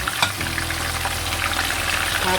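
Marinated milkfish (daing na bangus) frying in a pan, giving a steady, loud, continuous sizzle and crackle with no talking over it.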